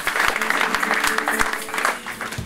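A church congregation breaks into applause for the Lord, steady clapping from a crowd with a few sharper claps standing out, fairly close and lively throughout, over faint background voices.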